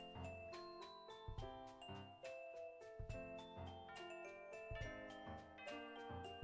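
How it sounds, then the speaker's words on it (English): School bells ring out in a clear, continuous series of bright chiming tones, layered and sustained, with no talk over them. "School bells."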